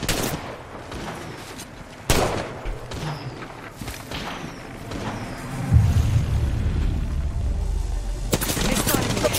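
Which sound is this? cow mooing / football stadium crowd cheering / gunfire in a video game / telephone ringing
gunfire in a video game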